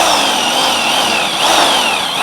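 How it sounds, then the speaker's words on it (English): A new Eastwood electric drill steadily whines as it opens up a hole in sheet metal, a loud continuous high-pitched grinding drone close by, with no voices. "I'm using this new fancy electric Eastwood drill here that's really great. And I'm going to open up this hole here."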